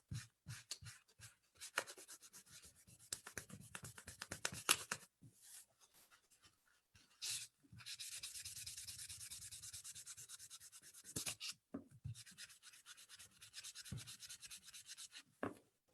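A paper napkin rubbed back and forth over oil pastel colors on paper, producing close, dry scratchy swishes in quick repeated strokes, with short pauses and longer sweeping passes.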